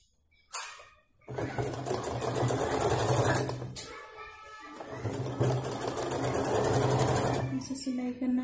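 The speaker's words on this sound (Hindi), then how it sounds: "इसको भी इसको ऊपर से सिलाई देना है" A sewing machine stitches a baby chaniya choli, whirring steadily in two long runs separated by a brief pause, with a faint voice in the background.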